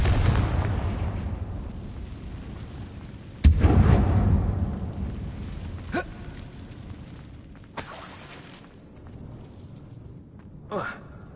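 A Confringo spell goes off in Hogwarts Legacy inside a dark mine tomb, a single heavy booming blast with a rumbling tail under faint game ambience, followed by a few smaller cracks.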